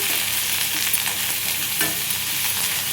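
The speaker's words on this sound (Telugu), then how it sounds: "దీనికి ఫ్లేమ్ పెద్ద పెట్టేసి మంచిగా రోస్ట్ చేద్దాం" Onions roasting in a pan on a high flame for haleem, with a loud, continuous close-up sizzle and frying crackle plus occasional stirring scrapes, no voices.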